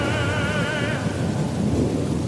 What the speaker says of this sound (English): On the world of Gorr, thunder is heard.